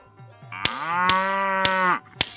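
A cow lets out a single loud, drawn-out moo close by, with a few faint clicks and knocks around it.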